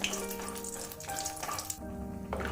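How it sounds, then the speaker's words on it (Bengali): Lentil dumplings (bori) frying in mustard oil in a pan, a steady close sizzle and crackle running throughout with no voices. "ডালের বড়িগুলো আমি ভেজে উঠিয়ে নেবো"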